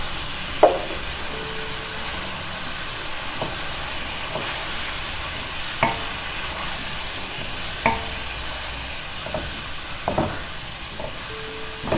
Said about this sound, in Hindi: इसे अच्छी तरह भून लें।